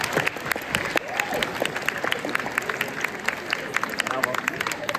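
Audience applause at a theatre festival award ceremony, a dense run of steady clapping from a full hall lasting the whole stretch, with faint crowd murmur underneath.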